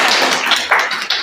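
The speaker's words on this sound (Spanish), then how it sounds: "Pues vamos a darle un aplauso a ellos dos." Applause from an audience of older adults at a seniors' social center workshop, loud, close, dense clapping that swells and fades in quick waves with no talking over it.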